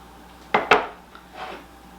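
Self-rising flour tipped from a measuring cup into a mixing bowl for a chocolate cake, giving two close, soft clinking thuds of cup against bowl and a faint rustle afterward, with no talking.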